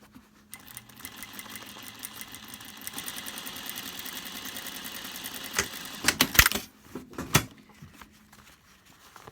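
A sewing machine reverse-stitches a fabric mask, running in a steady close whir that builds, then breaks into louder clattering bursts and stops near the end.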